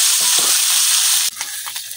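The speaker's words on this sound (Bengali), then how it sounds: "এখন মাছগুলো আমি উল্টে পাল্টে ভাজলাম।" Taki fish frying in hot oil in a karahi give a strong steady sizzle that suddenly drops as the pieces are turned, followed by a few scraping clicks of the utensil over a quieter hiss.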